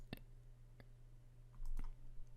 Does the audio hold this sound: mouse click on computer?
yes